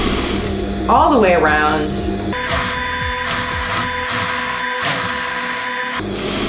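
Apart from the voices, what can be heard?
sewing machine top stitching fabric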